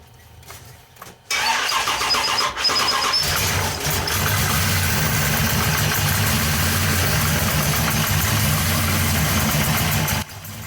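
A carbureted race truck engine cranks and catches, then settles into a loud, steady, slightly lumpy idle nearby, running alone until it cuts off near the end.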